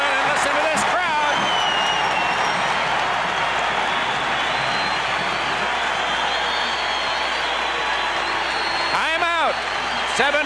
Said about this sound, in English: Maryland, and listen to this crowd.